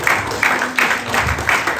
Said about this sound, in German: dass ihr euch einen Applaus gebt